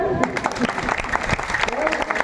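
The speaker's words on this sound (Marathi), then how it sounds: "वाजवा टाळी" Steady clapping from an audience at a devotional kirtan gathering, fairly loud and continuous for a couple of seconds, with a voice briefly heard over it.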